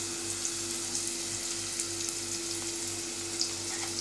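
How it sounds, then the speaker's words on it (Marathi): Chopped curry leaves sizzle and crackle in hot oil for a Maharashtrian shev tomato bhaji, a steady close frying hiss with small pops throughout and no talking. "पाच-6 कढीपत्त्याची पानं आहेत ती मी बारीक अशी तोडून घालणार आहे."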